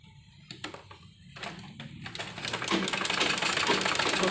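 Sewing machine stitching along the edge of an embroidered blouse, starting with a few separate clicks and short bursts, then settling into a steady, close, continuous run of rapid stitching.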